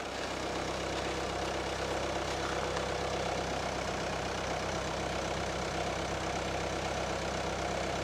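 An idling car engine heard from outside, either a VW Golf or a Ford Focus, giving a steady, even hum with broad noise and no change in pitch or level.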